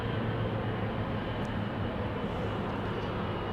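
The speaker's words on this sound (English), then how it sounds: "This is KLM Flight 689 to Cancun in Mexico. It's the PHBQO, 18 years old, first flight January 2007, and it's a 777-200." A KLM Boeing 777-200 departing Amsterdam Schiphol makes a steady, loud, broadband jet engine roar that holds without a break for a few seconds.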